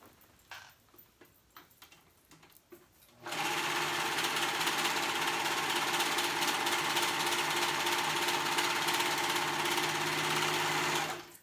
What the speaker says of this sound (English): And I'm going to go ahead and sew those up.